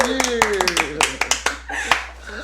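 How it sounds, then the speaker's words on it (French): A handful of people clap briefly while voices talk over it, the claps scattered and uneven, close and fairly loud. "Alors, on les applaudit."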